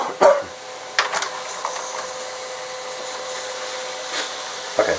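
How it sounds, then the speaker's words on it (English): An HP LaserJet P1102W laser printer printing self-test pages, a steady close whirring hum with a few sharper mechanical clunks and a short whine at the start. "now it's printing out a couple sheets"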